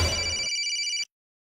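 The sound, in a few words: phone ringing at night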